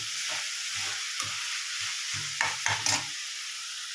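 Grated coconut fries in a pan for kara chutney under a constant soft sizzle, while a spatula stirs and scrapes it in short, uneven strokes, with a few sharper scrapes near the end.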